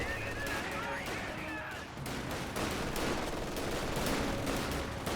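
Machine gun and rifle fire rattle through a Company of Heroes 2 battle between Axis and Allied forces, with an SCG-44 in the mix. The bursts and shots keep up a dense, continuous clatter that grows heavier after the first two seconds.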